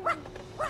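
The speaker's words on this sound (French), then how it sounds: "Monsieur, c'est un chien." Two short barks, near and moderately loud, from a small dog in the Tintin Reporter: Les Cigares du Pharaon video game, with a brief gap between them.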